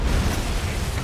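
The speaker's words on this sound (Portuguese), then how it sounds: "mandaram uma granada aqui, ó" Grenade blast in Robocop: Rogue City, a dense, loud booming rumble that fills the whole second with heavy low-end roar and debris-like crackle, no voices over it.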